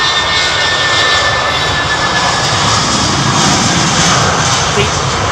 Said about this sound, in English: Nigel Armstrong, do the engines work harder in this damp, humid atmosphere, hence the more noise?